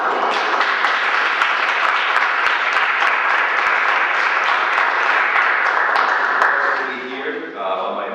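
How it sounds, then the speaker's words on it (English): Steady round of applause from an audience at a talk, sustained and fairly loud for about seven seconds before tapering off, with a voice starting to speak near the end. "I ask that you just give a quick round of applause to him."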